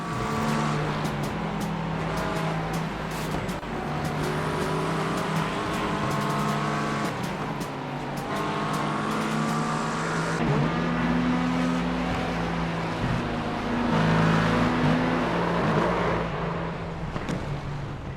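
Race car engines in an iRacing sim race, several cars drafting closely. A steady, loud, droning whine rises and falls in pitch as they shift and pass each other, with no talk.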